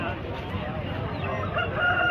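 A rooster crows at the Mydukur poultry market in Kadapa, a short call over busy market background noise with some voices.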